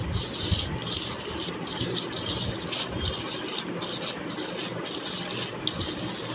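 Rice being kneaded by hand with fried dried chili, salt, onion and mustard oil gives a close, steady series of soft squishing and rubbing strokes in a regular rhythm.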